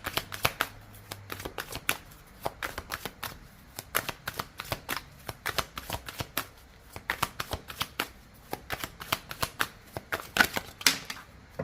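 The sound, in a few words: shuffling oracle cards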